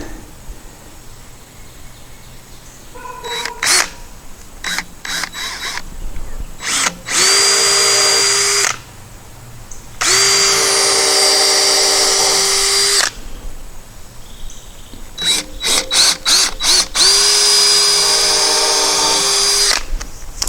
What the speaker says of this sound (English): Idea is take that small bit, run a pilot hole through there to the other side.